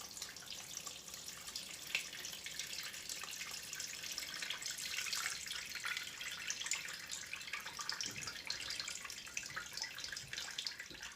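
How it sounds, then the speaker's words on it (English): Tap water runs steadily into a sink while a pokeberry-dyed towel is rinsed out, a continuous close splashing hiss with no talking. "I had to rinse out the towel because it got clogged with berries and stuff"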